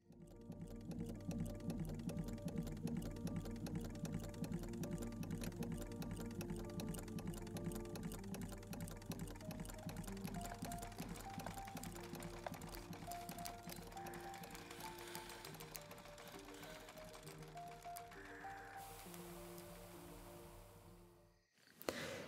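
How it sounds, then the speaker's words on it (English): A small sewing machine runs steadily with a fast mechanical whirring and clicking rhythm, close and continuous, slowing and stopping near the end. "You can see a mini sewing machine like that, with functioning, rotating stuff inside."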